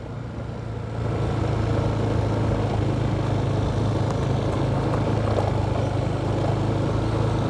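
Trucks queued on a road near Sibolangit where landslides hit the route, engines idling; a steady low rumble of heavy engines swells after the first second and holds loud and even, with no voices.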